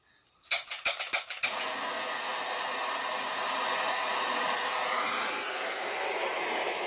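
Several sharp clicks from a torch igniter come first, then a steady, moderately faint hiss and roar as the torch flame heats a part.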